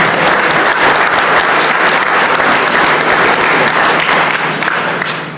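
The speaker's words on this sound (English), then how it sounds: "So I think that deserves another big round of applause." Loud, sustained audience applause at a policy speech event honoring a new Wage and Hour Administrator, dense crowd clapping that stays full and close before tapering slightly at the end.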